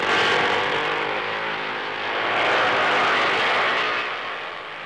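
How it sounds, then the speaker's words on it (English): A Gilera racing motorcycle at the 1954 Dutch TT in Assen screams past at speed, a loud, continuous engine roar that rises and fades slightly, heard alone without talk. "On the long straight, the Gilera is doing well over 140 miles an hour."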